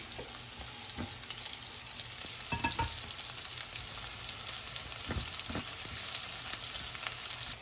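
Ginger sautéed in oil left over from frying fish, a dense, constant sizzle up close with a few sharp scrapes of a spatula stirring the pan, and no talking.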